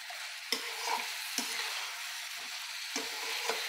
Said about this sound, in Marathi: आता हे मॅरिनेट केलेलं चिकन घालणार आहोत आपण आणि ते छान परतून घेणार आहोत